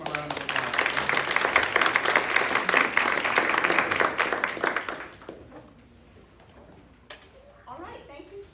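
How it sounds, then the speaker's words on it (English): An audience at a Catholic talk gives a round of applause, a loud sustained burst of many hands clapping for about five seconds before it dies away into a quiet room with a few stray sounds. "Let's give them a round of applause."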